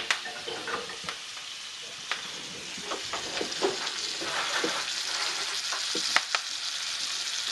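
A filet mignon steak fries and is basted in butter, giving a quiet, continuous sizzle crackling with small pops and occasional light clicks of a spoon or pan.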